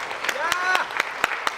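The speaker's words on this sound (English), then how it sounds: "a round of applause for T Meng" Sparse, scattered handclaps from an audience at a tech conference opening ring out in a loose, uneven rhythm, about half a dozen sharp claps under a speaking voice.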